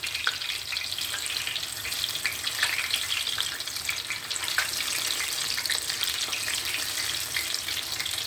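Spinach frying in hot oil, a few pieces at a time, a loud, steady sizzle and crackle with small pops, close up and continuous, no voices.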